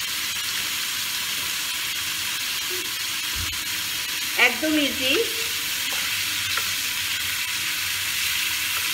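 Boal catfish pieces and onions fry in a pan with a splash of hot water, making a constant close sizzle and hiss while a voice speaks briefly midway.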